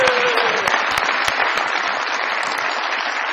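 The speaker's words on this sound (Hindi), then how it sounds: "बहुत सारी तालियां जी।" A crowd applauds at a live stage show, close and loud, a dense, continuous roar of clapping with sharp individual claps standing out, and a voice briefly heard at the very start.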